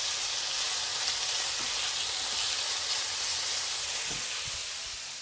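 Chicken sears in a hot pan with a loud, steady, hissing sizzle throughout, easing slightly at the end, with no talking.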